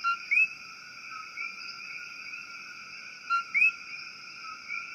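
Coqui frogs call repeatedly from close by, each sharp two-note chirp rising over a steady high chorus of distant frogs and insects.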